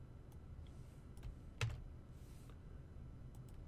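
Faint, close clicks of a computer keyboard tap out a query in short irregular bursts, with one sharper key strike in the middle and no talking.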